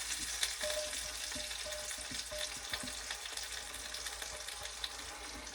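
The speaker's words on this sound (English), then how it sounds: "And you hear it sizzling because the eye of the stove was still hot." Lamb shanks sizzle and crackle quietly in a pan on a still-hot stove burner, a steady frying hiss with small pops and occasional scraping.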